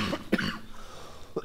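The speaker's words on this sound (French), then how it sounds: "je vous passe un extrait immédiatement de la toux que j'avais à cette période" A harsh, wet cough from someone ill, a sudden loud burst followed by a smaller hacking catch a second later, close to the microphone with no talk.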